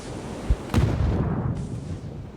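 A sharp thump is followed by a loud, booming blast with a rumbling tail, a grenade going off nearby in PUBG.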